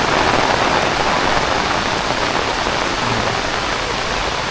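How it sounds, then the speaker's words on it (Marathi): Heavy evening rain pours down in rural Konkan, a loud, dense, unbroken hiss of drops on surfaces that stays steady from start to finish. "दादा या पाऊस पडतोय मस्त"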